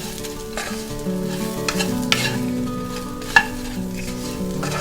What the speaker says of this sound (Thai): คั่วทุกอย่างให้เข้ากัน